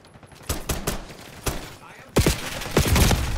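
Pistol gunfire in Call of Duty: Black Ops 6 beta, PM Makarov shots cracking in short bursts, sparse at first then louder and denser volleys near the end, with faint game voices.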